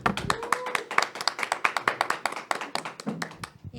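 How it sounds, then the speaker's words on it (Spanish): Applause for a participant at a Catholic faith discussion, a small group clapping in quick, sharp, uneven bursts that fade out near the end. "Agradecemos la participación de Luz María con un fuerte aplauso"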